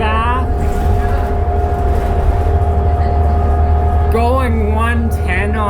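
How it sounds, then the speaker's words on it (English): A 2004 NFI D40LF city bus engine with Allison transmission drones loudly from inside the bus at steady speed, with a deep rumble and whining tones that shift near the end as the transmission changes gear. "There's nothing better than a good old Allison and a noisy motor."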